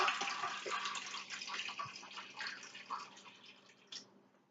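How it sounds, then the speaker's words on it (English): Purified water poured into the reservoir of a new Keurig coffee maker, a steady close trickle and splash running throughout with a few brief drips and bubbling gurgles near the end, no talking. "take this right here and pour some more purified water up here"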